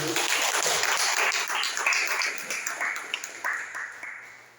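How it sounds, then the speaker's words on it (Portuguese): A church congregation breaks into dense, fairly loud applause that gradually thins into scattered individual claps as it winds down, with no speech over it. "Uma salva de palmas para Jesus."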